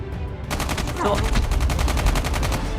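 BK57 assault rifle fire in Call of Duty rattles out as a rapid, evenly spaced automatic burst lasting about two seconds after a brief lead-in, loud and close, with faint game noise beneath.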